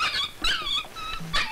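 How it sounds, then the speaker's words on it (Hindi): A dog growls and whines in a Hindi film scene, making a close, continuous run of snarling, whimpering vocalizations with short breaks. "बहुत अच्छा कुत्ता है"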